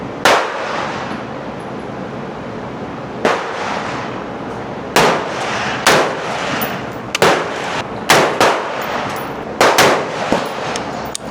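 Pistol shots crack out at an outdoor shooting range, about ten sharp, loud reports arriving in an irregular rhythm, some spaced seconds apart and others in quick pairs, with a faint background hiss between them.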